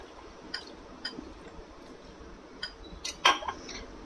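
Semolina batter being mixed with water in a bowl for a chicken-stuffed eggplant fry, heard as light scattered clinks of a utensil against the bowl with soft scraping in between, fairly quiet.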